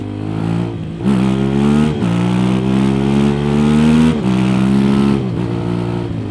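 An Aprilia Tuareg 660 motorcycle engine revs hard during a small wheelie, loud and close, with a rising rev, a brief dip, then another surge that holds and fades back, no talk.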